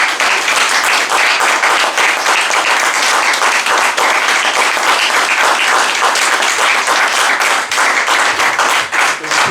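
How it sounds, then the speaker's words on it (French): A church congregation applauds loudly for the Lord, a dense, sustained wash of many hands clapping that fills the room and stays strong from start to finish, with faint voices mixed in. "Est-ce qu'on peut acclamer très très fort le Seigneur?"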